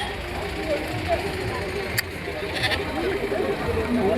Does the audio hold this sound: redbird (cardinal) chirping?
no